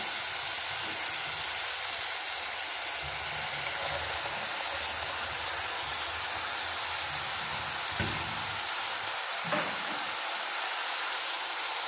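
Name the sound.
pouring lubia beans into hot pan, sizzling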